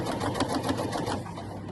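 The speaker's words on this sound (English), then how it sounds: "Just keep sewing right along that edge." A sewing machine stitching along the edge of an apron pocket, running steadily with a fast, even mechanical whir and rattle of the needle, close by, with no talking.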